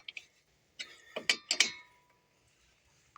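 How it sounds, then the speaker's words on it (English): A ratchet wrench tightens the front brake caliper bolts on a 2023 Subaru Outback, heard as a few sharp, close clicking bursts separated by short pauses, then quiet. "use the ratcheting side just to get that hair a bit tighter"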